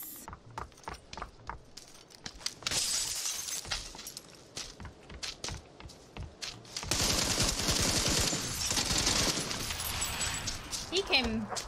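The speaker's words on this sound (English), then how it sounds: "He actually tried to shoot me with an Uzi." Bursts of Uzi submachine gunfire in the battle royale game PUBG, loud rapid volleys mixed with sharp breaking and shattering sounds, with a person talking intermittently.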